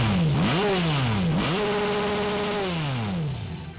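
A Honda prototype street-legal motorcycle engine revs up and down several times in quick sweeps, then holds a high steady pitch before dropping away, loud and close with no talk over it.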